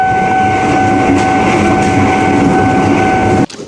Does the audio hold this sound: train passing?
yes